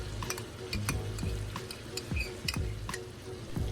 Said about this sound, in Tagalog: Haluin muna natin to para ma-incorporate na ang flavor ng sibuyas.